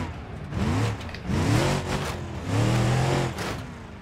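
A car engine revving in BeamNG Drive, rising and falling in three or four pitch sweeps as gears change, close and fairly loud over a steady background rumble.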